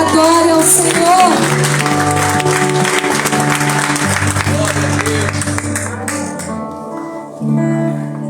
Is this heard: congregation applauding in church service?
yes